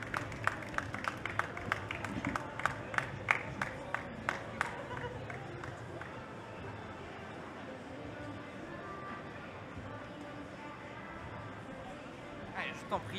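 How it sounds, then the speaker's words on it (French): At a Japan-themed fan festival, an audience gives scattered, fairly faint clapping for a volunteer coming up on stage, fading into crowd murmur and chatter after several seconds. "On peut l'applaudir, oui, s'il vous plaît."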